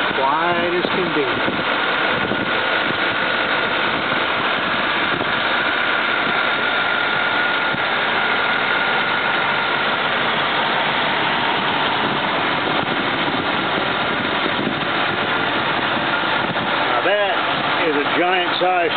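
Under the open hood of a 1959 Cadillac, the engine idles with a smooth, steady rumble that runs close and continuous throughout, while someone talks over it.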